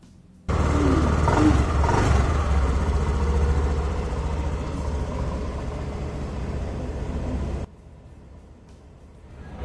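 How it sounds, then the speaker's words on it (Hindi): A Honda Activa 6G BS6 2021 scooter starts abruptly and settles into a steady, close engine idle with a low hum. It runs for several seconds, then cuts off, leaving quiet background. "आइए स्कूटर को स्टार्ट करके देखते हैं"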